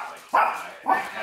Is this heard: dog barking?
yes